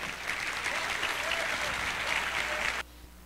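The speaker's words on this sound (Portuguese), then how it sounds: "Um grande salva de palmas." A congress audience applauds Pastor Nelson from Recife at an opening ceremony, a dense, steady wash of clapping from a large hall that cuts off sharply near the end.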